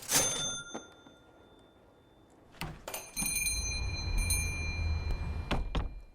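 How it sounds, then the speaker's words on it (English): Small bells hung over a shop door jingle in several brief bright bursts, separated by quiet gaps, with a low room rumble settling in behind the later ringing. "waiting for the jingling of the bells over the door to quiet before speaking"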